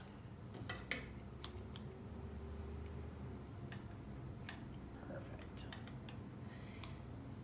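Scissors snipping off extra yarn from a small craft owl kit, a few faint sharp clicks scattered over a quiet, low background hum.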